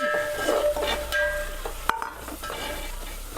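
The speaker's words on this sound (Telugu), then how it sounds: "ఇందులోనే కరివేపాకు, కొంచెం కొత్తిమీర వేసి ఒకసారి కలుపుకుందాం" A spoon stirs tomato chicken curry in a pan just after curry leaves and coriander go in. Soft scraping strokes run under a gentle frying sizzle, with one sharp metallic clink midway.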